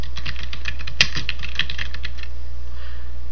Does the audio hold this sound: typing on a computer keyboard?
yes